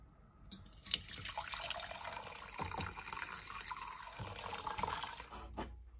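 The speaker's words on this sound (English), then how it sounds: "So what you do is you strain it after you finished everything and got it settled." Clove tea being strained and poured at home, a steady close liquid splash and trickle with drips running throughout, swelling and easing over several seconds.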